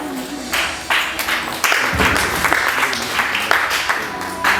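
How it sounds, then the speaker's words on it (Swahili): Applause breaks out among a church congregation at a Sunday service, with bursts of clapping that build and hold at a steady level while voices mix in. "Makofi hayatoshi."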